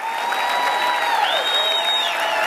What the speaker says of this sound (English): Keep your hands clapping, family.